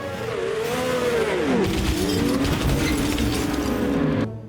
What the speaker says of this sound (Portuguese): o sistema de danos é decente e despedaça todo o carro